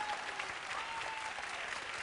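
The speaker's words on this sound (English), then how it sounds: "A round of applause" Applause from a small crowd after a game segment, steady clapping heard from a slight distance at moderate volume throughout.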